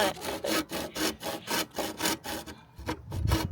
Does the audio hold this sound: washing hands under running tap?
no